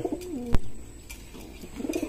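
Racer pigeons coo inside a loft, giving a few soft, throaty, rolling calls near the start and again toward the end, with quiet gaps and a faint background hum between them.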